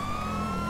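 A police car siren in GTA 5 holds a steady tonal wail over a low engine hum, heard for less than a second with no voices.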